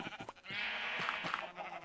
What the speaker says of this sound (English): I don't want to kill more sheep.